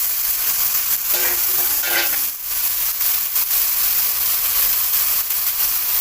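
Water is splashed into a pan of frying mustard paste with chilli powder, cumin powder and salt, producing a loud, steady close-up sizzle and hiss that dips briefly, then carries on unbroken.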